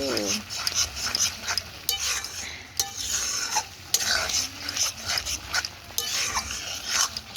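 Meat with green chillies and spices is fried and stirred in a little oil as the masala cooks down, giving a steady sizzle with repeated scraping stirs of a spoon against the pan at close range.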